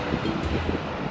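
Wind gusts across a high cliff edge, a steady rumbling roar buffeting the microphone with low, fluttering surges and no voices.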